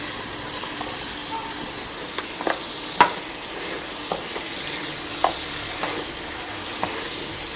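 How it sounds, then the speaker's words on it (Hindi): Six or seven chopped green chilies and spices fry in a pan with a soft, low sizzle. Occasional sharp clicks and scrapes of a utensil stirring break through at irregular moments. "अब 5 मिनट के लिए इन्हें भून लिया।"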